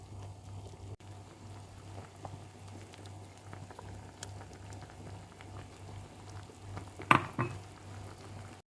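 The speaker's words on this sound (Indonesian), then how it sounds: "Ini gulai putih kolnya udah mendidih ya teman-teman, baru aku masukin telurnya satu-satu ya teman-teman." White cabbage curry with coconut milk boiling in a pot, a faint steady bubbling simmer with a low hum beneath, broken near the end by a sharp clink of an egg or utensil against the pot.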